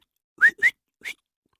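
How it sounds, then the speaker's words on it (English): Three short whistled notes, two quick ones close together and a third after a pause, clear and fairly loud with no other sound. "Whistle."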